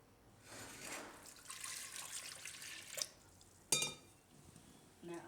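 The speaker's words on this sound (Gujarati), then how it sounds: "એમાં આપણે પાણી નાખી દેવું થોડુંક" Water poured into a pressure cooker holding cut potatoes, a faint splashing trickle that swells in short bursts alongside a few metallic clinks, quiet and close.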